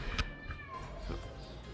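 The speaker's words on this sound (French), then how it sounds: "Un petit chat qui miaule, je sais pas si vous l'entendez." A small cat gives a single faint, drawn-out meow that slides downward in pitch, with quiet room noise and a soft knock around it.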